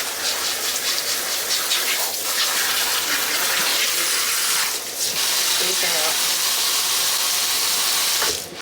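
Water from a tap runs in a loud, steady gush while a short bob haircut is rinsed, the stream wavering briefly as it splashes and breaks up mid-flow.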